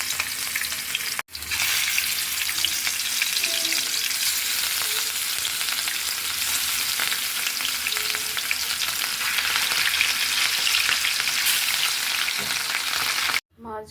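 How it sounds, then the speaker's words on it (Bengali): Rohu fish pieces fry in hot salted oil with a steady, loud, continuous sizzle, briefly interrupted near the start and cut off at the end, with no talking. "মাছটা ভেজে নিব, বেগুনটাও ভাজবো।"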